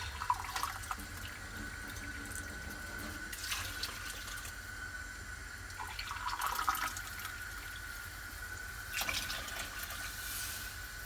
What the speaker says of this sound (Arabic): هنا كنفرغ الماء سخون